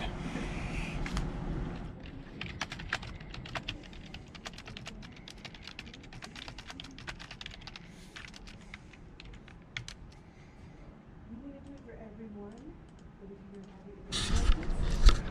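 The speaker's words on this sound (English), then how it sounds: "Typing is slightly harder than it should be." Fingers tap on a computer keyboard in quick, irregular bursts of soft clicks, close by, ending in a louder rustle.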